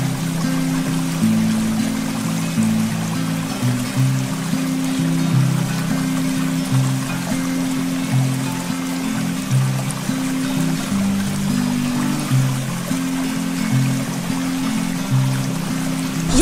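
A natural waterfall pours nonstop onto a Shiva lingam at the Anjani Mahadev temple in Himachal, making a steady, close rush of falling and splashing water with low tonal droning beneath it.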